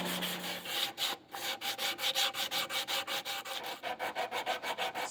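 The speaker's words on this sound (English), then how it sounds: "I make them on the sander." A wooden guitar nut is pressed against a powered sander in a wood shop, giving a steady rhythmic series of close, raspy rubbing strokes, about three per second, with no voices.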